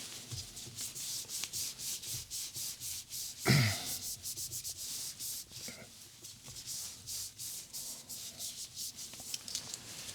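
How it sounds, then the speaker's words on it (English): An alcohol swab wipes the back of a phone's touch screen, a close, quiet, steady rubbing with rhythmic back-and-forth strokes that continues throughout, broken by one brief louder handling bump. "they have provided an alcohol swab, which is helpful to wipe the back of your touch screen"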